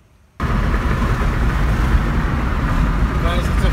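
An Acura/Honda car being driven in fifth gear after an engine restorer treatment, with a steady road and engine drone that starts abruptly after a brief quiet moment. Someone talks over it.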